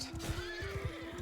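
Horse whinnying in a Viking-era video game, a short, fairly close call with rough pulsing tones over a steady background drone.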